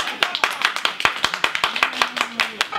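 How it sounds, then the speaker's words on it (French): A small audience at the Paris opening of the Yopougon bar Bada Bar claps, a handful of sharp, distinct hand claps in a loose, fairly regular rhythm with a faint voice in the background. "Il faut l'applaudir, s'il vous plaît."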